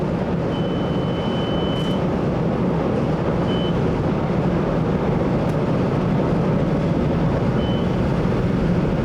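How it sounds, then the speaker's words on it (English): Motorman's cab on a renovated Green Line train, with a thin electronic signal beep sounding faintly several times over a loud, steady rumble of the moving train, with no voices. "An audible beep can be heard indicating a change in position."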